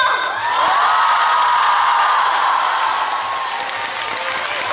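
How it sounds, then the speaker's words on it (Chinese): A theatre audience at the closing show of a Chinese opera spring tour in Changsha breaks into loud, sustained applause and cheering. The clapping stays dense and steady throughout, with no speech over it. "所以我建议大家把热烈的掌声送给吕云香。"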